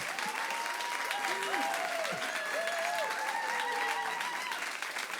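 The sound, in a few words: congregation applauding a couple being welcomed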